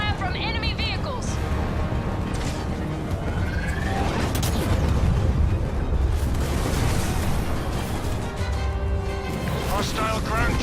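Halo Wars 2 battle: enemy vehicles unleash gunfire and heavy explosions, with loud booms and bursts rolling continuously through a dense, chaotic din, voices faintly mixed in.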